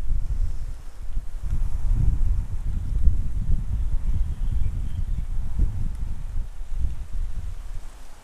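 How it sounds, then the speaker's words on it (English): Gusty wind blows outdoors during a yoga flow, a steady low rumble with buffeting surges against the microphone, continuous and fairly loud throughout with no voices. "I've got the wind all of a sudden here."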